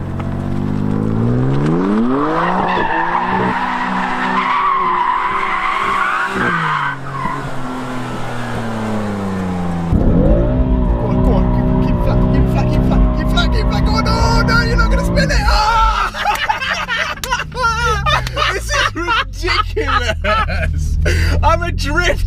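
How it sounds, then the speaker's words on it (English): BMW M3 drifting with loud tyre squeal and roaring engine revs close by, the squeal rising and falling across the slide while excited voices talk and shout over it. "that's the sickest drift ever"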